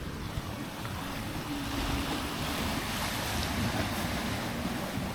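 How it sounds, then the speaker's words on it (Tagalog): Strong ocean waves surge onto a shore at a rainy campsite, a steady broad roar of surf mixed with wind buffeting the microphone, loud and continuous throughout with no voices. "Grabe, lakas na ng alon."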